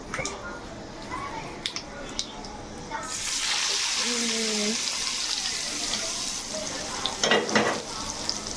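Green chillies frying crisp in a pan, made for a koshimbir raita with a brinjal recipe. Light crackles come first, then a steady close sizzle fills the second half, with a few sharp clinks of stirring near the end.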